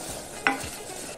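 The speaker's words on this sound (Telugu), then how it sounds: "కొద్దిసేపు వేపుకోవాలి।" Whole spices fry in a pan with dried red chillies and curry leaves for a fresh coconut sambar masala, giving a soft, continuous sizzle close by with one sharp clink of a stirring spoon.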